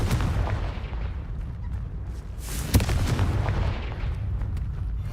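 A Confringo explosion spell goes off in a video game, a dense, loud rumbling blast with a sharp crack partway through over continuous booming noise.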